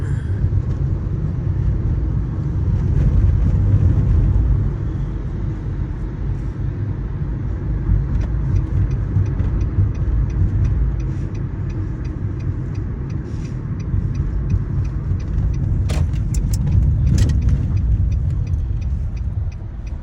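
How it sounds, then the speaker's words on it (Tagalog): A car rumbles steadily through slow parking manoeuvres during driving licence practice, its engine a constant low drone with a few faint clicks near the end and almost no talk. "Signal right? Yun. Okay, parking, Brad."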